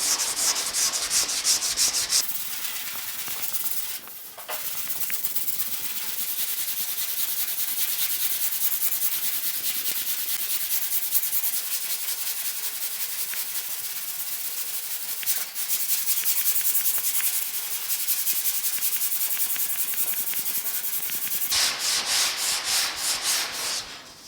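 Worn 80-grit sandpaper and a longboard rubbing across primer on the door of a 1950 Chevy truck, a steady close scraping that runs continuously with brief pauses between strokes, no talking.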